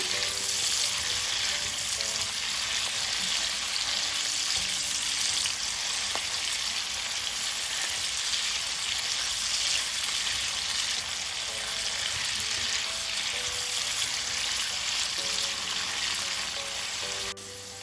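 Chicken gizzards and onions frying in a pan over medium-high heat while being stirred, a loud, steady, dense sizzle running throughout with faint scraping, no voices.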